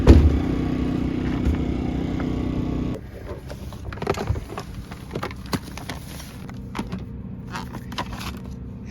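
A portable generator runs steadily while powering an RV, giving a loud even hum at first, then dropping to a quieter drone with scattered clicks and handling noises close by.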